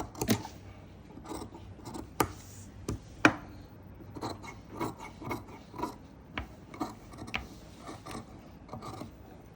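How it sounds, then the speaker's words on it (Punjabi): Scissors cutting fabric to shape a neckline: quiet, crisp snips repeated at an uneven pace, each one short and close by, with no one speaking. "ਹੁਣ ਇਹਨੂੰ ਆਪਾਂ ਨਾ ਇੱਥੋਂ ਕਟਿੰਗ ਕਰ ਦੇਣਾ ਹੈ"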